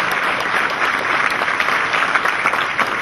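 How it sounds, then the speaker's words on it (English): At a community conversation with a governor, the audience claps for her policy advisors, with a continuous, fairly loud spread of many hands clapping throughout. "A round of applause for them again as well for their insight."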